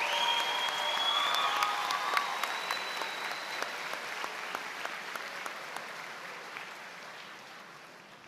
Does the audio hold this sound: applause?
yes